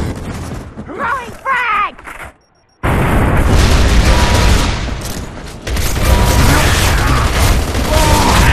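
A fragmentation grenade blows up in Gears of War 3 with a loud, broad boom that rolls into sustained rumbling debris and battle noise, following a brief quiet gap after earlier game voices.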